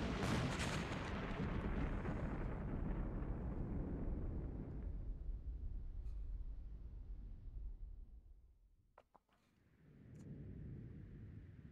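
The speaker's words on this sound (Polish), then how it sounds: "Paskudnie zdeformowany odgłos wybuchu." A badly distorted explosion from the video game Persona 2: a loud, crunchy broadband blast that rumbles and slowly fades over several seconds, followed by a brief dip and a renewed low roar.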